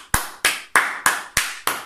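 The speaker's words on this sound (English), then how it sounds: "give this guy a clap at home." Six sharp hand claps in an even, steady rhythm, each one a crisp slap close to the microphone, with no voices alongside.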